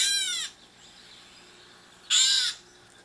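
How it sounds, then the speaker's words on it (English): Two loud, harsh bird calls played back through a birding app, each about half a second with a strained, buzzy quality, separated by roughly a second and a half of quiet hiss. "it will play the sound of the bird."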